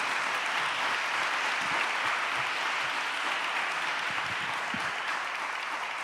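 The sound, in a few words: audience applause at seminar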